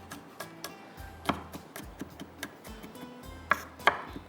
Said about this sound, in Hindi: तो मैं गार्लिक ले लेती हूँ, जिसको फ्रेश कर गार्लिक इसके अंदर डालूँगी चॉप करके